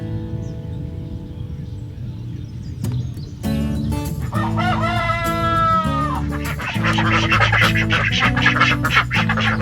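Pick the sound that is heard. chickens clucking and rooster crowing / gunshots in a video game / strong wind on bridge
chickens clucking and rooster crowing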